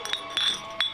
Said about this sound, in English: we took those bottles and we just clinked them